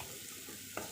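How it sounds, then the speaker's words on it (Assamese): Masala frying in oil in a pan and stirred with a spatula, a steady soft sizzle with a brief scrape of the spatula near the end. "এইখিনি কিন্তু মই হেতাৰে লৰাই লৰাই ধুনীয়াকৈ ভাজি থাকিম"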